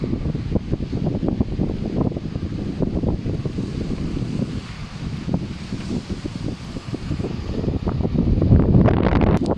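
Steady wind buffets the microphone in gusty low rumbles at a hotel in Alcudia, with a stronger gust at the end.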